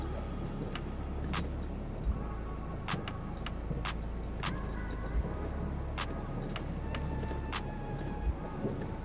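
A vehicle rolls along the road with a steady, close low rumble from inside the cabin, broken by scattered light ticks and clicks throughout.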